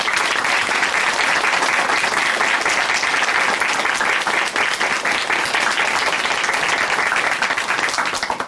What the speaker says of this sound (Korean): 오늘 귀한 간증 들려주신 이은미 자매님께 다시 한번 박수 부탁드립니다.